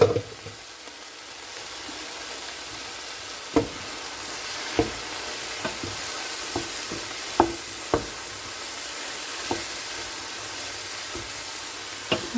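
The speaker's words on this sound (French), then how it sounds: "Maintenant, on va rajouter les champignons déjà découpés." Sliced mushrooms tipped into a hot pan sizzle steadily, with a string of sharp clacks and scrapes as they are stirred, fairly close and with no talk.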